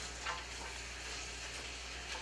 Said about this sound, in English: So now I can hear it start sizzling.